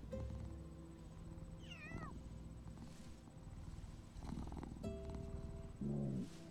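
A litter of four small kittens meows in a few thin, rising cries scattered over several seconds, close by, with some rustling and light handling noises between calls.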